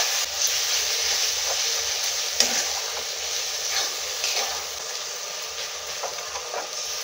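Turmeric, chilli, coriander and cumin powders fry in oil for jackfruit chicken curry, a loud, continuous hiss-and-sizzle close up with soft stirring scrapes throughout.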